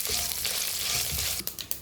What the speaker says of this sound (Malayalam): ഉഴുന്നും കടുക് ഇട്ടിട്ടുണ്ട്. മൂത്ത് വറുക്കുന്നു.